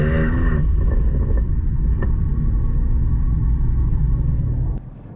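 A BMW G80 M3 with a full Capristo exhaust, valves open in sport mode, idles with a loud, steady, deep rumble close by, with a sharper blip near the start, before the level drops away at the end.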